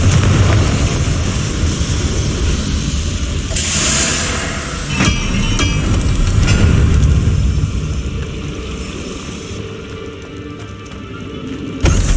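In the video game Hogwarts Legacy, the Confringo spell goes off as a loud, booming fiery blast with a rumbling tail. A second burst follows amid ongoing game sound effects, with no speech.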